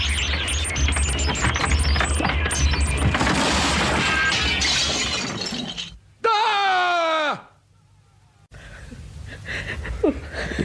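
In a radio drama, a kitchen glass door is smashed: a loud burst of shattering glass and crashing debris, then a strained vocal groan, a sudden silence, and faint noises trailing off.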